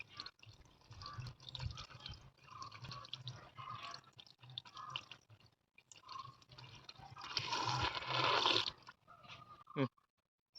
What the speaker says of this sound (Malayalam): നമ്മൾ കുറച്ച് വെള്ളം ഒഴിച്ചൊന്ന് മണ്ണെല്ലാം നനച്ചിട്ടുണ്ട്